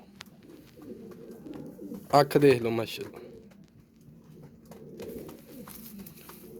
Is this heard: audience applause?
no